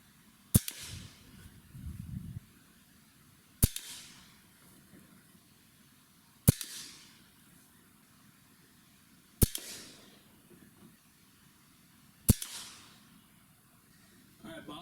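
Five sharp air rifle shots with Crosman Premier Hollow Point 14.3 grain pellets at a 50-yard outdoor range, evenly spaced about three seconds apart, each a crisp snap over quiet background rustling.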